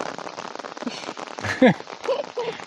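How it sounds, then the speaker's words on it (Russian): Rain falls outdoors on a riverbank in the countryside, a crackly patter on a nearby surface, likely an umbrella, under which people talk briefly close by. "вот мы сейчас, знаете, под дождем"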